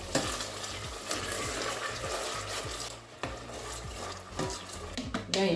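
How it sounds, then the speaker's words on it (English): Tomato stew base for Nigerian jollof rice frying on low heat, with a continuous sizzle and repeated scraping, clinking strokes of a spoon stirring the pan, close by. "Then you keep an eye on it and stir it often, very often."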